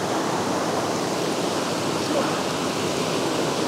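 The Gorgodi stream flows through the Gorgodi Valley near Borçka in Artvin with a constant, close hiss and rush of water, even and unbroken throughout, with no voices.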